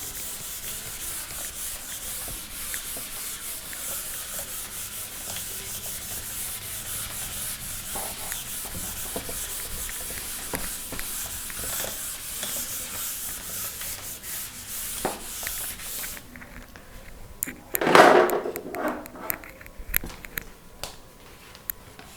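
A cloth or duster rubs writing off a board in steady, soft scrubbing strokes for a long stretch, quiet and close, ending with a few sharper knocks and brushes.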